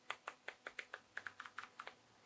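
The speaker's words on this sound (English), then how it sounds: "I would leave it on because I like the click" Crisp, close clicks from the aperture ring of a Sony FE 50mm f/1.2 GM lens, about a dozen quick detents in a steady run, each one sharp and light in a quiet room.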